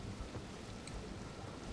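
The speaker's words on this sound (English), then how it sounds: "Oh, it's raining." Steady rain and a low rumble of thunder in the video game Elden Ring, a constant wash of rainfall with no talk over it.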